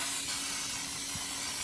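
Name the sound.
baking spray coating a fluted tube cake pan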